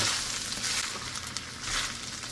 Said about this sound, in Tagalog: Lutuin ng laman hanggang matuyo ang sabaw at magmantika.